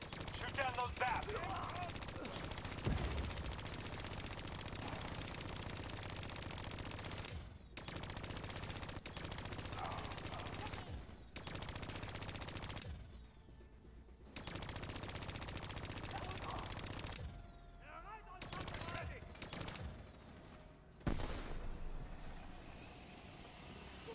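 Sustained gunfire in Call of Duty Black Ops 3 aimed at VAPs, long continuous bursts of automatic fire with engine and rotor rumble underneath, briefly cutting out a few times before resuming.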